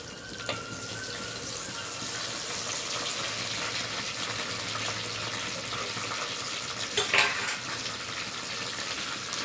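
Curry leaves frying in a pan for green chilli chicken, a steady loud sputtering hiss throughout with a brief sharper crackle burst near the end, no speech.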